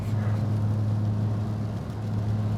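Steady car engine and road drone from inside a vehicle moving through traffic on a rainy morning, a continuous low hum holding at an even level throughout with no talk.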